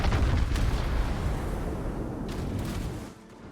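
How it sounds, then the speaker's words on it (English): Naval armour-piercing shell fire in World of Warships rolls out as a heavy, rumbling boom that stays loud and sustained, then fades and thins near the end, with no voices. "it is fun watching these AP shells come in and bounce and stuff"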